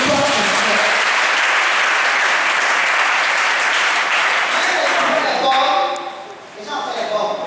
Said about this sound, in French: Acclame-le.